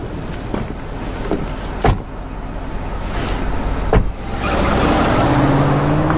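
A car in a film scene, with engine rumble, a couple of sharp door or window thuds, and then a steady motor hum and rising whine near the end. No speech.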